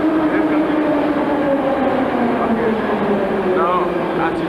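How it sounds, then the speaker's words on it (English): An underground metro train in Minsk pulls into the station, its steady rumble and rising wheel hum filling the platform for several seconds, with faint clattering and a brief squeal near the end. "Now, as you see, there comes the underground train."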